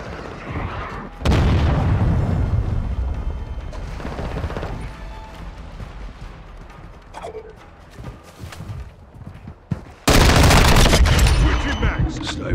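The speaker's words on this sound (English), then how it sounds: "Friendly cruise missile deployed." Cruise missile strike in Call of Duty: Modern Warfare II, heard as heavy booming blasts with scattered gunfire, one big explosion near the start and another loud one near the end, with game radio chatter in between.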